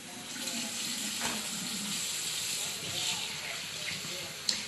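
Tap water running into a sink while rinsing off a face mask, a steady splashing hiss close by with small bumps and a brief knock near the end.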